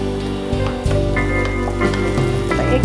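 Two finely chopped green chillies and garlic frying in hot oil for an egg chilli with capsicum, a loud close sizzle with crackling pops and a brief stirring scrape, no voices.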